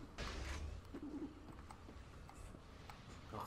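Pigeons cooing in the video game Resistance 2, a few low soft coos amid background game noise and scattered clicks.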